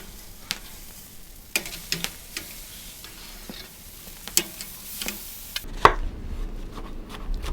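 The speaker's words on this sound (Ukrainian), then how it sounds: "Обсмажимо по 2 хвилини з кожної сторони." Soft, steady sizzling of flank steak on a hot ceramic grill, with scattered clicks and clatters of utensils over the quiet background.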